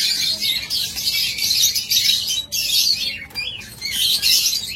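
A pair of fawn diamond doves kept among caged birds, with steady high chirping and twittering throughout and brief dips, no voices.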